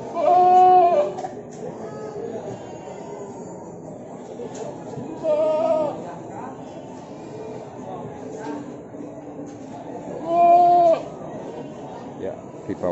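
Goats bleat at a livestock market selling Etawa crossbreed (PE) goats, including a young male, with three loud wavering calls spaced several seconds apart over steady crowd murmur and background chatter.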